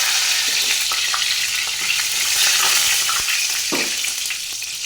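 Whole bay leaves and garam masala sizzle in hot oil in a pan, a loud, steady frying hiss close up, broken by a few soft stirring knocks.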